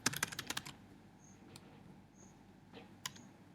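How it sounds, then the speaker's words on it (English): Quick burst of typing on a computer keyboard, a rapid cluster of close key clicks at the start followed by a few scattered isolated taps in a quiet room. "So I'm going to type in more than one keyword"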